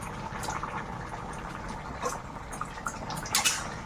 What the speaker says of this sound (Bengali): মাছ দিয়ে কিছুক্ষণ ফুটে গেছে